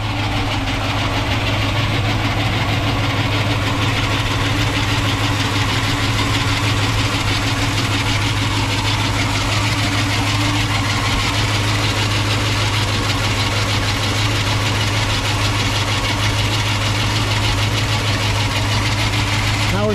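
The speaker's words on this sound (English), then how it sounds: "it is making a pulley noise." A 1968 Ford Mustang idles with a worn, wobbling pulley, giving a steady low engine drone topped by a continuous mechanical whir and rattle, close and unbroken.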